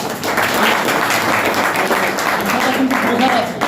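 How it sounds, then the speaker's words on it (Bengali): Steady applause from an audience at a Bengali talk, dense clapping sustained throughout with voices mixed in underneath. "একটু জোরে হাততালি দিয়ে"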